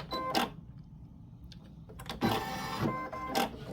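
A Baby Lock Flare embroidery machine stitches an in-the-hoop dog poop bag dispenser, close mechanical whirring bursts with rapid needle clatter, pausing and restarting several times, no speech.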